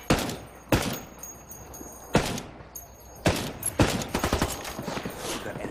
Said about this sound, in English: Under a lot of fire over here.